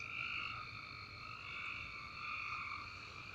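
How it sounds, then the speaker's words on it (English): Many frogs call together on a warm night, their dense, overlapping croaks forming a steady, even chorus that rises and falls slightly, with no one speaking. "as you can hear, there are a bunch of frogs croaking"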